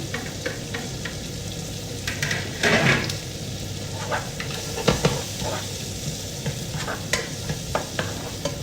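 Onion and garlic sizzle steadily in a hot pan, with a spatula scraping and stirring in irregular strokes close by and no voices.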